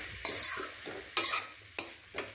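Stirring grated coconut into a cooked dish in a pan for Kovai-style arisi paruppu sadham, with scraping spoon strokes and a soft sizzle, several distinct close stirs at an uneven rhythm, no talking.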